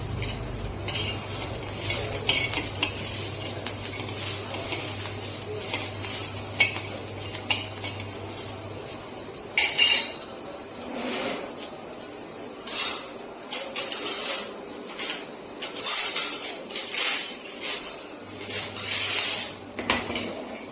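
Peanuts dry-roasting in a pan for thecha while a spoon stirs and scrapes steadily, with a soft sizzle underneath and scattered metallic clinks growing busier toward the end.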